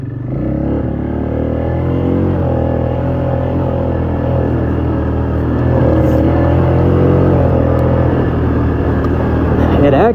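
Polaris Magnum 330 ATV engine running steadily during a test drive, a continuous loud low drone with a slight rise in intensity partway through, close to the machine.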